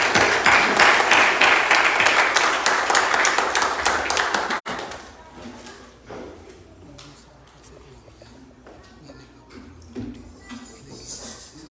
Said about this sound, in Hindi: सो जी पास्टर सुखविंदर जी, आपकी जोरदार तालियों में